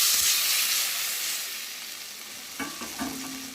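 Hot fried spice masala for a potato curry hisses and sizzles steadily as water goes in, the broad hiss fading slightly before a few sharp clanks of a spoon stirring against the pan near the end.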